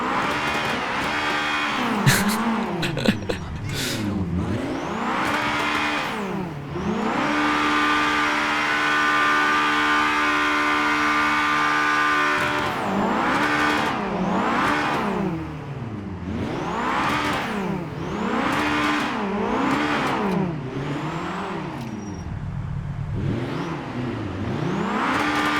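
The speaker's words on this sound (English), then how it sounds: "Man, that is one loud car." A loud, high-strung tuned Acura RSX Type-S engine in GTA 5 revs up and down repeatedly, pitch climbing and dropping through gear shifts with occasional tire squeal, heard alone without talk.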